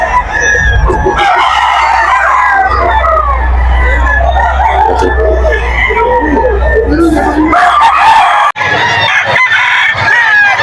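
A young rooster (stag) crows at a busy pet market in Bocaue, its crow mixed among clucking fowl, crowd noise and people talking nearby.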